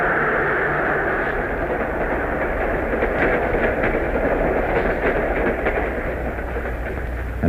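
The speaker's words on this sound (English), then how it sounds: "The train is passing under a safe highway crossing built above the tracks." A train rumbles past under a highway overpass, a loud continuous roar with rhythmic clacking and thumps from the wheels, steady throughout.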